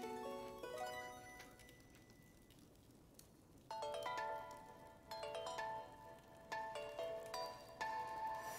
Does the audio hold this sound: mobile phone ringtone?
yes